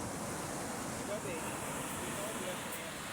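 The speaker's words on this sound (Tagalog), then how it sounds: "Lakas ng hangin pa" Strong wind roaring at night outdoors on a beach campsite with big waves, a steady dense rush filling the whole clip at even loudness, with no voices.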